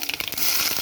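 Mustard seeds crackle and pop sharply in sizzling hot oil, a brief, dense burst of spatter heard up close.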